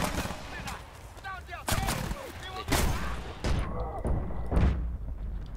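Grenade blasts and gunfire in Battlefield: Bad Company 2, several sharp broadband booms spaced a second or so apart over continuous game noise, with someone talking between them.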